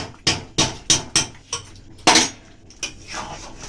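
A spoon knocks against a pot while ghee is mixed into cooked khichuri, giving a string of sharp metallic clinks and scrapes, several evenly spaced at first and then more scattered, close by and with no talking.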